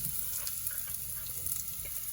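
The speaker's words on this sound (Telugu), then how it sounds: "మిరపకాయలు వేగిన తర్వాత మనం ముందుగా దంచి పెట్టుకున్న రసం పౌడర్ వేస్తాము." Rasam powder tipped into hot oil over already-fried red chillies in a home kitchen, giving a steady close sizzle and crackle that runs without pause, with no talking.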